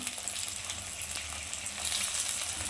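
Peas and finely chopped capsicum fry in hot oil, giving a soft, steady sizzle with faint stirring scrapes, moderately quiet and close, with no talking.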